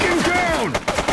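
Rapid gunfire erupts in the police video game The Precinct, with sharp cracks clustered in the second half over rising and falling siren-like wails and a raised voice.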